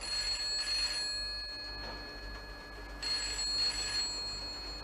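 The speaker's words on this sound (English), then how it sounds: "That's the telephone ringing, sir." An old-fashioned telephone bell rings in two bursts separated by a pause, fairly loud and trilling, with no voices.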